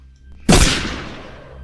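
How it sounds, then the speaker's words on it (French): A single loud gunshot sound effect cracks out during a tabletop role-playing game session, with a long reverberant tail fading away. "à l'instant il y a le coup de feu"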